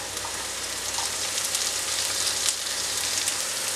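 Chopped onions hit hot oil in a pan for a Kerala-style kingfish chili curry, giving a steady, dense, close sizzle that holds evenly throughout with no talking.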